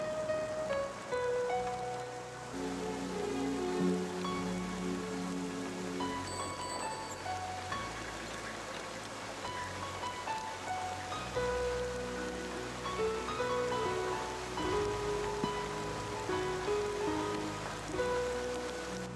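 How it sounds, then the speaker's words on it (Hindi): Steady rain at night falling throughout, a continuous hiss under a musical score with sustained tones and low pulses, no talk over it. "बारिश भी हो रही है"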